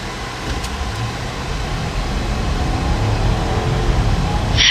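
Jeep Grand Cherokee V8 accelerating hard, heard from inside the cabin as a steady, building engine roar and road drone that grows louder through the run, with no talking.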